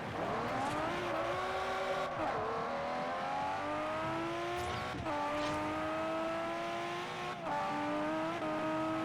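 A Lamborghini Reventon, Viola Ophelia colour, drives in Forza Horizon with a steady engine note that climbs through the revs, drops at each gear change and climbs again, close and loud, with no voices.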